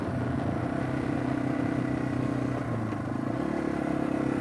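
A 2021 Yamaha TW200 dual-sport motorcycle engine drones steadily with a buzzing rumble, tires crunching and clattering continuously over loose gravel.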